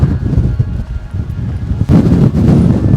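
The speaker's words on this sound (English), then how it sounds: "Oh, that wind." Wind buffeting a microphone on the open hilltop of Moel Famau, low rumbling gusts that rise and fall, easing briefly then swelling harder for the last second, close and loud.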